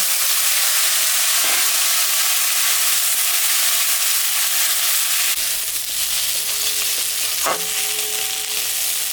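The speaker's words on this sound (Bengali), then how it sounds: "কিছু ভাজা ভাজা হয়ে গেছে লঙ্কা পেঁয়াজ এখন আমি পটল আর আলুটা দিয়ে দিই" Pointed gourd and potato pieces hit a pan of frying chillies and onion, a loud steady sizzle with bursts of stirring and clatter midway, close and continuous without talk.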